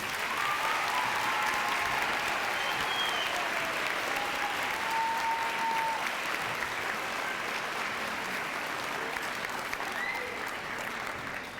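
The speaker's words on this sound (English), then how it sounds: "Let's give him a round of applause" Loud, sustained applause from a large crowd at a school Veterans Day assembly, a dense even roar of clapping that holds steady before tapering slightly at the end.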